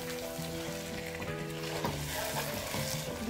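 Dry chicken fries in a pan while being stirred and mixed, a dense steady sizzle with a low clattering, tonal ringing from the pan throughout.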